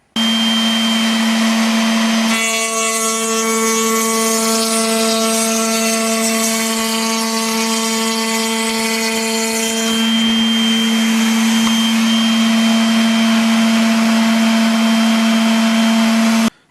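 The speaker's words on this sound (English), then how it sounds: "Now I can adjust the height of the cutter and the fence to start taking the slope off." Table-mounted cutter machining a slope into a wooden cabinet door panel, a steady loud motor whine with a harsher cutting roar in the middle as the wood is fed through, then the machine running on alone.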